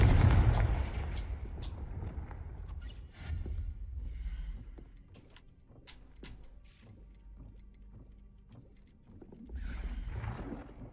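A fire-blast spell in the Hogwarts Legacy video game sets off a heavy, rumbling explosion, followed by a long, low roar that fades slowly and swells again near the end.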